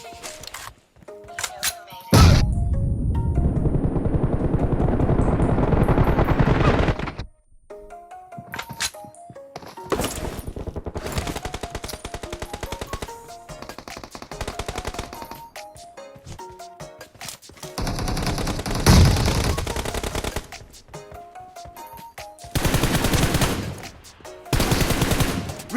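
Bursts of automatic gunfire and heavy single shots ring out loudly in a mobile battle royale shooter, with long sustained volleys, brief pauses, and further sharp firing throughout.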